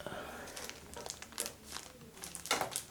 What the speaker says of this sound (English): So we've got this plastic covering on top. Let's take that off.